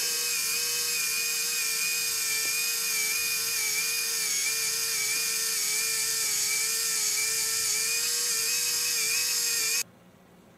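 A belt runs over a constant-speed driving pulley and a variable-speed driven pulley in a mechanical movements demonstration, making a steady, loud mechanical whine and hum that holds throughout and then cuts off abruptly near the end.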